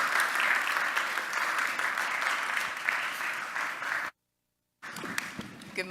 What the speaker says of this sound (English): we could kind of give her a round of applause of greeting and encouragement